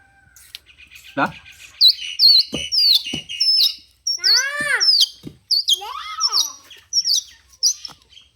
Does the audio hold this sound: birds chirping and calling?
yes